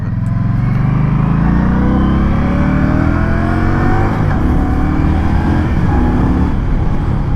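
An Indian Scout motorcycle accelerates under a rider through shifts, the engine's loud, close roar climbing steadily in pitch with rising harmonic sweeps and steady wind noise, with no talking.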